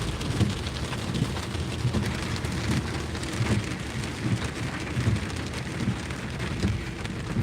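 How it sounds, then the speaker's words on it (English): Steady heavy rain pours down continuously, a dense hiss of drops drumming on surfaces with soft low thumps throughout, no voices over it. "Oh, you said the rain's gonna stop."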